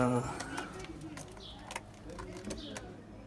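Fancy pigeons coo softly inside a loft, a few low throaty calls that come and go at moderate distance while people talk nearby.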